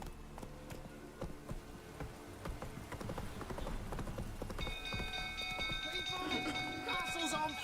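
Hooves clop in a quick galloping rhythm as the horse Roach runs in The Witcher 3 video game, steady and moderately close, overlaid by game music and effects.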